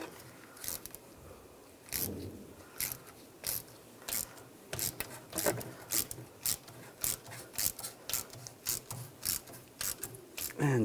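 Screws being started and snugged into a rear brake backing plate on a 2011-2018 Ram 1500, giving a series of sharp ratcheting clicks and metallic rasps in irregular bursts, close and fairly quiet.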